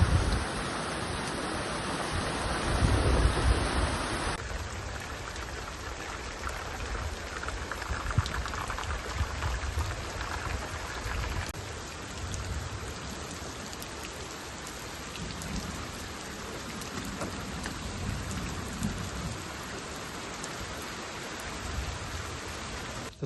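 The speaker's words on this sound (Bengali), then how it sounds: "বৃষ্টি চলে এসছে," Steady rain pouring in a Sundarban village, a dense, even hiss of drops hitting surfaces with faint low rumbles underneath, continuous and fairly close, no one speaking.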